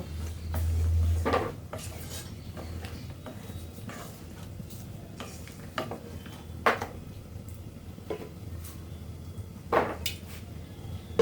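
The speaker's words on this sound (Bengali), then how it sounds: "এরপর ভালোভাবে নাড়ব" A spoon scrapes and knocks around a cooking pot of boiled taro with fish, with intermittent clinks and rubbing strokes at irregular intervals over low background noise.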